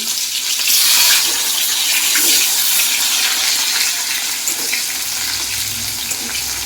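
Onion and crushed garlic frying in spiced oil before chicken goes in for a curry: a loud, dense, steady sizzle with faint stirring throughout, close and continuous, no talking.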